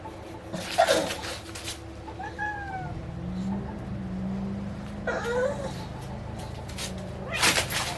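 A cat meows a few times, with drawn-out whining calls and a low growl between them, over a quiet room background.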